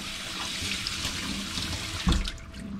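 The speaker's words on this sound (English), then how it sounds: "I'm going to pour it into my colander, and I'm going to run cold water over it to kind of quickly stop the cooking process." Cold tap water runs steadily over cooked rice in a colander, a constant splashing stream with a brief louder gush near the end.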